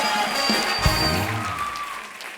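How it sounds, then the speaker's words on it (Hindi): A studio audience claps loudly for Vicky Kaushal and Sara Ali Khan on Krushna Abhishek's comedy stage, the applause blending with steady background music and a brief voice for about two seconds. "एक बार जोरदार तालियां विक्की और सारा के लिए"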